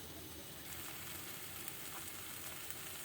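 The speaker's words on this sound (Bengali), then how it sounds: "আমার কষানো হয়ে গেছে মশলাগুলো। এবার আমি" Paneer pieces added to cooked masala frying in a pan, with a soft, steady, even sizzle throughout and no talk.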